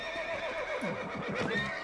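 A horse whinnies with a rising, wavering call over steady background hum and faint hoof clatter, from the video game Red Dead Redemption.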